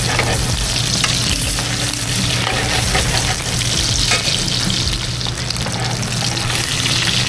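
Sous-vide steak sears in a hot pan with butter, garlic and rosemary, giving a loud, continuous, close-up sizzle that holds steady from start to finish.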